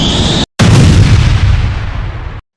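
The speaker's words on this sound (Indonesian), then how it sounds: "Bom atom di Hiroshima." The atomic bomb explosion over Hiroshima in 1945 is rendered as a loud, close blast. After a brief cut, a long, heavy rumbling roar follows and gradually thins out before stopping abruptly.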